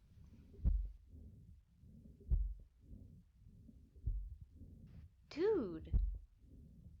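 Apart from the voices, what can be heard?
recorded heartbeat of the woods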